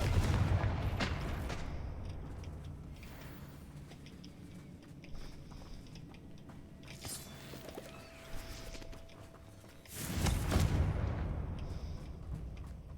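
Confringo spell blasts in the Hogwarts Legacy video game: heavy booming explosions with rumbling tails, one at the start and another near the end, separated by quieter crackling battle ambience.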